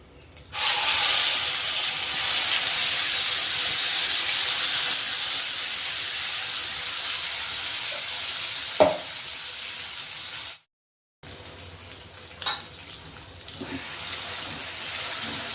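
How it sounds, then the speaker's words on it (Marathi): Ground roasted masala fries in hot oil with a steady close hiss and sizzle, broken by a brief stir clatter, a short gap of silence, then the sizzle resumes with occasional spoon taps. "मसाला आहे ना चांगला तेलात परतून घ्यायचा आहे बघा"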